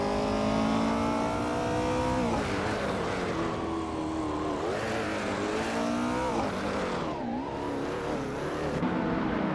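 A 1970 Opel Commodore race car in a racing video game, its engine droning loud and steady with rising and falling revs as it shifts gears, continuous throughout.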